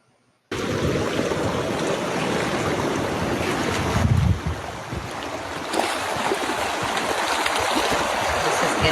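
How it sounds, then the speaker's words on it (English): Rushing water from a river forming in the Saudi Arabian desert, a steady loud broadband roar with gusty wind buffeting the microphone, continuous throughout after a brief silent start. "So first we have a river that is forming in Saudi Arabia."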